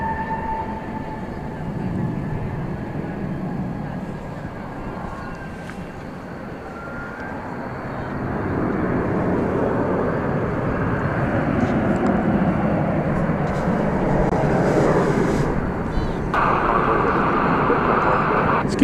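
An American Eagle Embraer 170 arriving at DFW Airport from Amarillo gives a broad, rising jet roar that swells and holds near the runway, with spotters talking faintly underneath at times.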